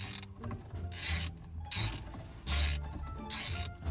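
Custom steering wheel being screwed back onto its hub by hand, with four loud bursts of metallic rasping and ratcheting about a second apart over a low mechanical rumble, close up and without talk.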